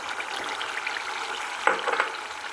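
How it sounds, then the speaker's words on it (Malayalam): Tapioca being stirred into beef gravy for kappa biryani, a steady close sizzle with soft scraping strokes that grow louder near the end. "ഇതെല്ലാം നമുക്കൊന്ന് മിക്സ് ചെയ്യാം നന്നായിട്ട്"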